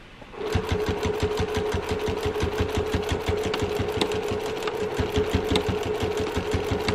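A sewing machine back-stitches a vintage cloth napkin, its needle hammering out a fast, even mechanical rhythm close by that starts abruptly and runs steadily without pause.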